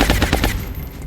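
Rapid bursts of automatic gunfire from a video game firefight, loud and close, with several sharp shots in quick rhythm over the first half second before tapering into a rumbling tail.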